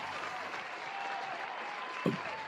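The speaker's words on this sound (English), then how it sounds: "Round of applause." A steady round of applause from a crowd, heard at moderate distance, with a brief sharp thump near the end.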